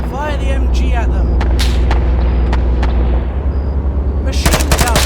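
A 122 mm gun fires in a tank battle video game set in the Manchurian Strategic Offensive, a heavy booming blast over a constant low rumble and scattered gunfire, with a voice breaking in near the end.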